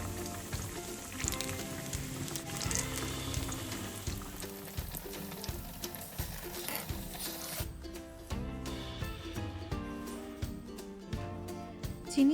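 Bengali moong dal gur pithe dumplings frying in hot oil give a soft, steady sizzle, faint and continuous beneath light background music.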